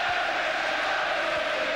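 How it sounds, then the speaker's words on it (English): Dense roar of a football stadium crowd at a Manchester United versus Southampton match, a steady distant wash of massed voices with no clear breaks. "It's certainly got the crowd fired up."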